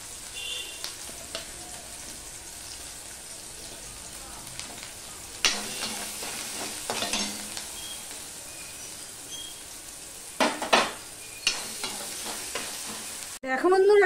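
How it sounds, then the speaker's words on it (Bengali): Chopped onion and three garlic cloves fry in oil for a prawn stuffing, a steady sizzle with clinks and scrapes of stirring that grow busier midway, ending in a louder clatter. "দেখো বন্ধুরা, পেঁয়াজটা লাল লাল হয়ে ভাজা হয়ে গেছে"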